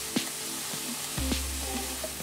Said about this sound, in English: I just heated my oil in the skillet, and then I'm adding the half yellow onion that I diced. Just gonna saute this till it gets translucent